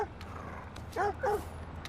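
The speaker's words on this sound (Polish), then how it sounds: "Cześć pies." A dog in the video game Watch Dogs 2 gives two short, close barks about a quarter-second apart, over a steady low game ambience.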